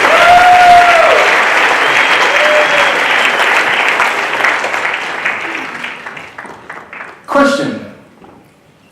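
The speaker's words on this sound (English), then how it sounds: "Give a round of applause, everyone." An audience at a Las Vegas stage show applauds loudly, with a whoop early on, then the clapping tapers off before a brief voice and one last burst near the end.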